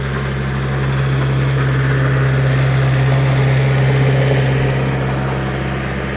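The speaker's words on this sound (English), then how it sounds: "as our tractor rolls on by" A steady, loud engine drone rumbles throughout without a break, like a heavy vehicle rolling close by at low speed.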